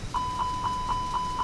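Airbus A319 cockpit engine fire test warning: six evenly spaced, clear electronic beeps at a steady rhythm over faint cockpit hum, with no voices.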